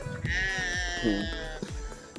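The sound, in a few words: sheep bleating on a farm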